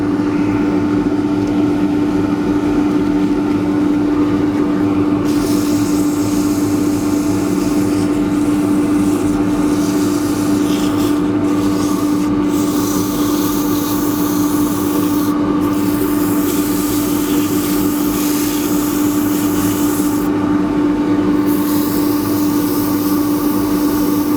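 A small natural-edge wood bowl spins on a lathe while 180-grit abrasive rubs against it, giving a steady whirring motor hum under a soft rasping scrub that comes and goes in bursts, close and continuous without talk.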